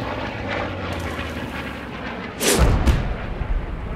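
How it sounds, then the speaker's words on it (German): An airplane sweeps overhead during a video game tank battle, a steady engine drone rising into a loud, close roar, with distant artillery-like booms rumbling in the background and no talking. "Flugzeug."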